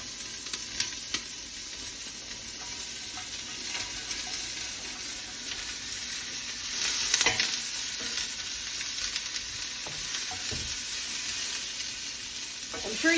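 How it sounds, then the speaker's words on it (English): Steady frying sizzle from onions in a pan, a continuous crackling hiss with occasional clinks and stirring, fairly close and with no talking. "Ooh, sizzle."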